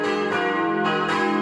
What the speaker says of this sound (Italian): il suono delle campane, questo alto campanile slanciato verso il cielo azzurro